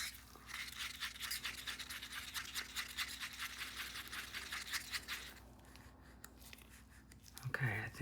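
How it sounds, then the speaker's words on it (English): A wooden stick scrapes around the sides of a plastic cup of mixed resin, giving steady rapid scratchy rubbing strokes that fade near the end, with a voice briefly audible. "Scrape your sides really well."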